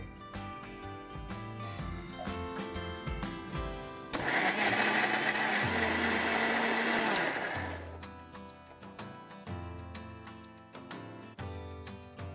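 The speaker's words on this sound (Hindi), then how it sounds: "अब इसे हम मिक्सी ग्राइंडर में पीसेंगे।" An electric mixer grinder whirs loudly for about three seconds, grinding cooled roasted masala with a little water, between quieter kitchen clatter before and after.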